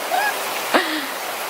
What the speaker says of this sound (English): within like 10 minutes of swimming it starts pouring down